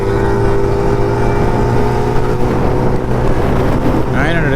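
A superbike engine drones steadily at full throttle on an open road, a loud, close, sustained mechanical hum mixed with rushing wind for the whole stretch.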